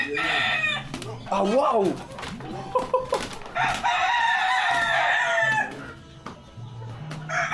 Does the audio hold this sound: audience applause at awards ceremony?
no